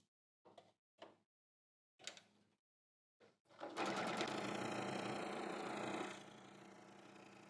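A few short clicks and handling taps come first, then a sewing machine whirs steadily for a couple of seconds while stitching a curved facing edge and slows to a softer hum, close and alone.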